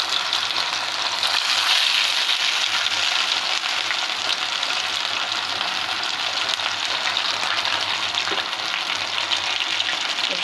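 Chicken pieces frying in hot oil, giving a loud, continuous, close crackling sizzle that holds steady throughout with no one talking.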